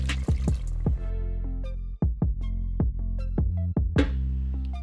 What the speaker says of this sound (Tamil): நான் மட்டன் வேக வச்ச தண்ணியை ஆட் பண்ணுறேன்.